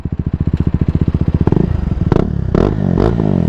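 Liquid-cooled 373 cc single-cylinder engine on a 2026 Pulsar NS400z, heard close up with a rapid, even thumping idle that climbs into a loud, rising rev with a couple of sharp throttle blips.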